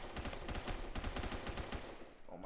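Rapid automatic gunfire from the Roblox first-person shooter Phantom Forces rattles in a dense, loud, continuous burst of shots that barely lets up, with no voices over it.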